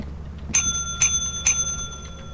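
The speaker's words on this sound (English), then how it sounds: "You can also do a cool trick if you ring this bell several times in a row." A bell in the video game Lethal Company is rung three times in quick succession, bright clear strikes about half a second apart with lingering ringing tones over a low background hum.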